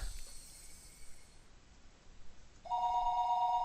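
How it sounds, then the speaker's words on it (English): A telephone in the Higurashi no Naku Koro ni game starts ringing near the end, a steady electronic trill that follows a quiet stretch of faint background tone. "The phone rang for a third time."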